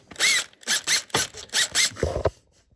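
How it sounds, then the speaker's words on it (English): A power drill whirs in a series of short, close bursts, about six quick pulses in a row, followed by a lower grinding run. "That's it, drill her up."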